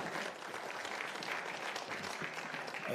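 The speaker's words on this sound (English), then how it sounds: "Can we give them a round of applause, please?" A seated audience at an ANC energy dialogue event applauds in a steady, even wash of clapping, faint and distant-sounding, with no voices over it.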